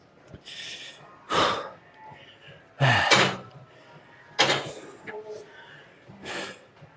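Heavy, ragged breathing after a set of squats: a few loud gasping inhales and exhales spaced about a second apart, close to the mic, with faint movement between them.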